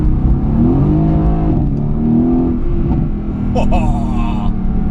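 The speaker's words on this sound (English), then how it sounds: "Just downshifting." Mercedes-AMG GT S engine downshifting, a steady loud rumble with falling and rising rev sweeps, heard from inside the car under continuous road noise and a voice.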